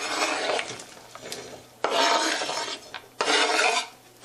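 Onions and garlic go into a pan of water for an onion cream sauce, heard as repeated bursts of scraping and stirring against the pan, close and separated by short quiet gaps, with no talking.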